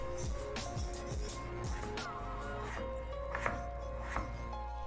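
Vegetables such as potatoes, onions and peas being chopped for crispy dhaba-style pakora, a run of knife strikes on a board at an irregular pace, moderately close and fairly quiet, with faint background hum.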